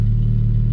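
Porsche GT4 with race headers and straight exhaust, a brief burst of deep, loud engine drone held steady at high revs, close to the microphone.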